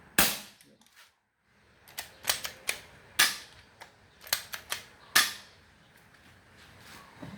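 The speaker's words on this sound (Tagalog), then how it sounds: "So i-release lang natin yung hangin ayan tropa." Air being let out of a leaking Sky Hawk airgun valve while an O-ring is swapped, a series of sharp pops and hissy bursts, irregular and close, separated by short quiet gaps.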